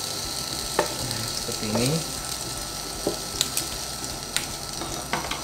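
Cabbage orak-arik stir-frying in a pan, a steady close sizzle and hiss with occasional scrapes and clinks of a utensil stirring, and a brief voice speaking over it.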